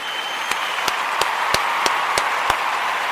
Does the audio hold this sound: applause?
yes